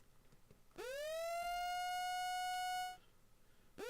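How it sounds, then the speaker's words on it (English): Tornado warning sirens in Michigan during severe weather, sounding a single rising, sustained harmonic wail that holds steady for about two seconds, then drops off, with the start of another wail at the end. "If you do hear those alert sirens, that's what those are."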